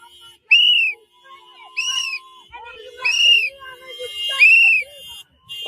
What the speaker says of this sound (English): They can do ear damage blowing it that close to them.